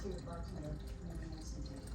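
Water pours steadily into a gallon jug for homebrewing, a continuous splashing fill with a faint voice underneath.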